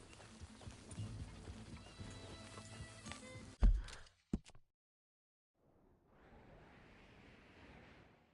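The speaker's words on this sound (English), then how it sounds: "Just get back on the horse, Arthur." A horse in the video game Red Dead Redemption 2, with scattered clopping hooves and a snort or whinny over busy background sound, a sharp thump, then near silence before faint ambient noise returns.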